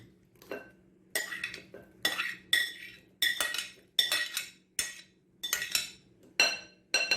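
Apple cake batter stirred in a heavy dish: about nine rhythmic scraping strokes of a utensil against the dish, each rising sharply and trailing off, close and clear with quiet pauses between.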